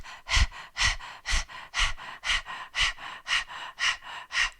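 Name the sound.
breath of fire yoga breathing, quick panting breaths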